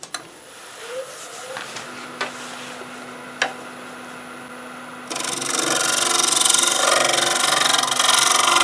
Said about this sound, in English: I'll be sanding on the inside